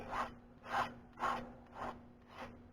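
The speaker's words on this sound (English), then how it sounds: "Let's see if I can hit it with a file. Get the burr off the end." A metal file rasping over the cut end of a pipe to remove the burr, five steady back-and-forth strokes in an even rhythm, close and fairly quiet, with no talk.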